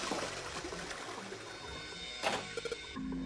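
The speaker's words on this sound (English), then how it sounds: "I heard a loud flushing noise" Toilet flush in Zero Escape: 999, a steady loud rushing of water filling the whole clip, with a brief gurgling surge near the end.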